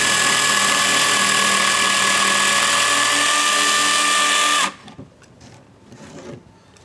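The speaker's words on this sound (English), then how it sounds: "So I'm gonna go ahead and make my first cut." A wooden rafter is cut by hand with a saw, giving a loud, continuous rasping drone for most of the stretch before it stops abruptly. A few faint, scattered knocks follow in the quiet.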